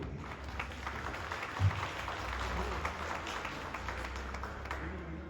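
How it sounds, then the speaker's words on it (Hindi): Steady applause from an audience at a birthday celebration for a Tibetan spiritual leader, a dense wash of clapping held at an even level throughout. "इसके लिए आप सभी अपने लिए जोरदार तालियां बजाइए।"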